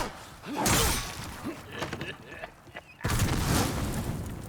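Rapid revolver shots fired by an enemy in a Mario-themed video game, a few sharp bursts in close succession with loud game noise and a voice speaking around them.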